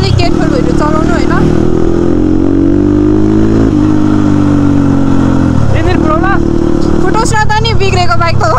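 A worn-out motorcycle engine revs and drones loudly and continuously at close range, its pitch rising and falling, while people talk over it.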